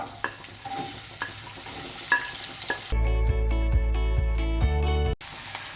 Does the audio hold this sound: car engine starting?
no